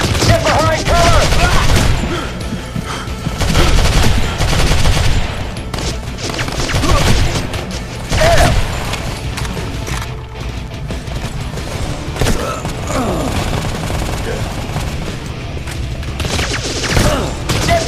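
Suppressing gunfire in Modern Combat 3 during a helicopter deployment: dense, loud automatic fire and rapid shots keep going throughout, broken by heavier impacts and crashes, with voices shouting over the battle.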